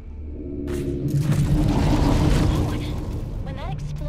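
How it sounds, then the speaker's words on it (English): A space explosion in the game Everspace 2 gives a deep rumbling boom that swells and rolls on for a few seconds, with game sound effects around it. "When that explosion went off"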